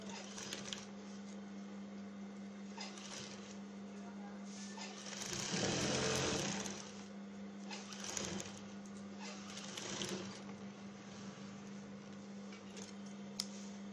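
A sewing machine stitches a ruffle on a bedcover, producing a faint, steady mechanical hum with rapid ticking that swells for a moment midway, and soft handling sounds throughout.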